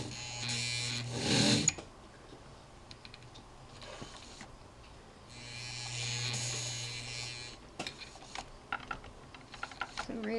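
A sewing machine stitches a loom-woven doll sweater at a tight stitch length in two steady buzzing runs, each a couple of seconds long, with quiet handling clicks between them.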